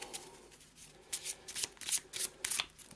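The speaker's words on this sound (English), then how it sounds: "So let's give it a shuffle." Eldritch Horror cards from the Green Americas encounter deck being riffle-shuffled at close range, with several crisp bursts of flapping card edges in quick succession and no talking.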